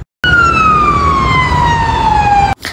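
A police car siren sounds as one long, loud, steadily falling wail over a low road rumble, then cuts off abruptly.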